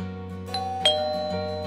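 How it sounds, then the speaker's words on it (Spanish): A doorbell rings with two clear chime tones struck in quick succession, sustained and ringing out steadily at close range with no voices. "Sonó el timbre y empezaron a llegar los invitados."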